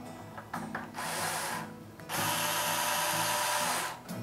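A winder tool tightens the strings while restringing a Hozen guitar. A close, whirring ratchety buzz comes in bursts that grow louder and steadier, then stops.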